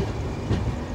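Padatik Express (12378) rolling into Kishanganj station in Bihar, a steady loud rumble of train wheels and carriages heard from on board.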